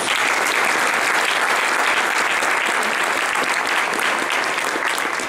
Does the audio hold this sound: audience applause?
yes